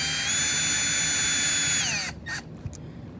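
A power driver runs screws into a Tekno ET48.3 RC car chassis during a rebuild, one loud, steady whirring burst for about two seconds before it stops, followed by a few faint clicks and a short tap.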